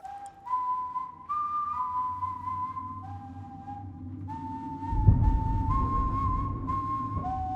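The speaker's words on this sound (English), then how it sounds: "get familiar with that ominous whistle because it's bone chilling" Slow, eerie whistled melody of long held notes stepping up and down, with a dull thud and low rumble joining partway through.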